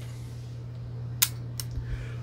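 A vintage film camera shutter fires in two sharp, bright clicks about a third of a second apart, followed by fainter handling knocks in a quiet room.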